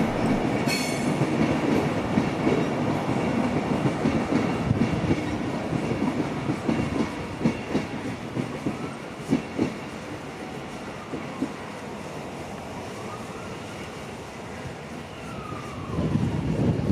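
The steam charter train Tangmere rumbles past on the railway, a loud, continuous roll of wheels with clickety-clack beats and a sharp whistle-like tone near the start, swelling again at the end.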